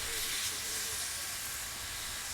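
A steady, broad hiss of steam from a steam locomotive at a station in China runs throughout, with a faint low rumble underneath and no distinct voices.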